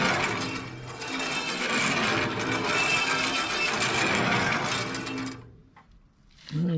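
A Wood-Mizer LT40 band sawmill runs loud and steady for about five seconds with a dense mechanical whir, then cuts off, leaving brief quiet before a voice speaks at the end.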